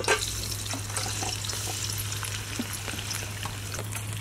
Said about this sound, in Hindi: आलू अच्छा फ्राई कर लेना।